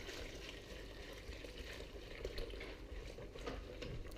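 Lemon meringue gelato custard mixture poured into a pan on the heat, a close continuous liquid rush and gentle sizzle running steadily throughout, no talk.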